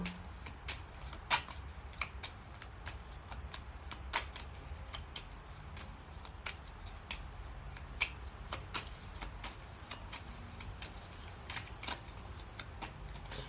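Tarot cards being shuffled for a reading, a steady run of crisp riffling clicks and papery slaps repeating throughout, close and moderately quiet with no voices.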